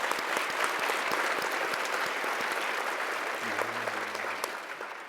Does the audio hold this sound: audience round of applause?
yes